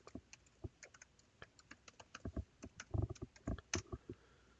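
Username and password being typed on a computer keyboard: a quiet run of close, uneven key clicks and taps that gets a little louder and denser toward the end, with no talking.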